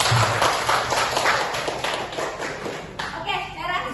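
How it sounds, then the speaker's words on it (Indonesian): A classroom of students claps together in a brief burst of applause, dense and moderately close, with talking mixed in as it fades. "Oke, berikan aplaus ya."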